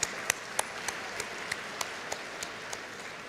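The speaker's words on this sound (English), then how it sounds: "A big round of applause to all the MBA students." Sparse, evenly spaced claps from a small group, about ten sharp hits over three seconds, rising above a quiet room during a convocation for graduating MBA students.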